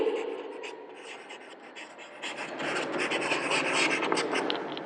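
Chalk or marker scratching on a board during a maths lesson on area and perimeter, a soft continuous run of strokes and taps that grows slightly louder toward the end.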